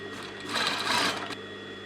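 A sewing machine stitching over a thick hem with a weight sewn in, a short steady mechanical whir building up and then stopping, close up with no talk.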